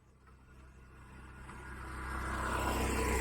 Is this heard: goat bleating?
no